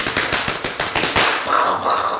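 Several sharp crackling pops in quick succession, like small fireworks, followed by a hissing, fizzing tail that fades out.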